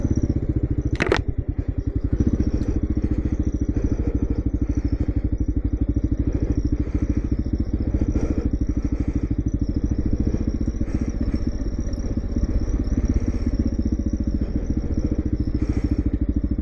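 A Kawasaki KLR motorcycle riding off-road on loose trail at Rampart Range, its single-cylinder engine droning steadily and loudly up close with rattling clatter and occasional thumps from the rough ground.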